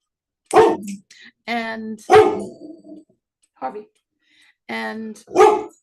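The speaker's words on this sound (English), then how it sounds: "Sorry about that. That's my dog." A pet dog barks in a series of loud, close, sharp barks spread across a few seconds, with short gaps between bursts and a brief word spoken among them.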